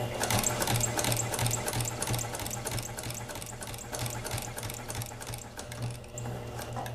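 A sewing machine stitches a quilt top in a fast, steady mechanical chatter with a low motor hum underneath, close and continuous with no talking.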